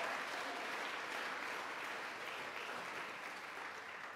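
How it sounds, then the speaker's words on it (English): Sustained audience applause at the Mayor's Arts Awards ceremony, a broad, even roar of clapping from a large crowd that fades slightly toward the end. "We can give a round of applause for that."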